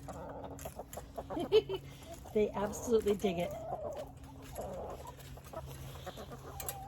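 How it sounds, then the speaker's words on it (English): Hens clucking and chirping softly nearby in short bursts, with someone speaking over them. "Aren't they the cutest chickens?"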